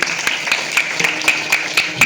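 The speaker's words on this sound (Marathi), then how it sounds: "यांच्यासाठी टाळ्या झाल्या पाहिजे." A crowd at a devotional gathering claps for women who handed out Shivpath books, in a steady beat of about four claps per second, close and fairly loud over a noisy background.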